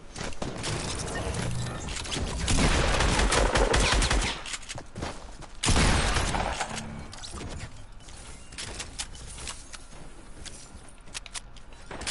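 Video game gunfire with repeated bursts of shots, louder around the middle then thinning into scattered cracks and mechanical clatter, with no speech.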